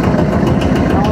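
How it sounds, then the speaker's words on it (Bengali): A tourist boat's engine idles at the lake by the Sahasradhara waterfall in Sitakunda, a loud, steady low throbbing rumble heard close by, with people talking over it. "এই যে এখানে বোট আছে, এই বোটই আপনাকে কিন্তু ঝর্ণার পাশে নিয়ে যাবে আবার নিয়ে আসবে।"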